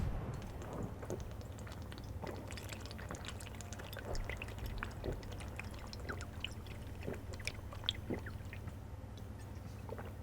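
Water poured out for a drink, around 400 millilitres, a steady gurgling, splashing stream running close and continuous for the whole stretch, with small drips and bubbles along the way.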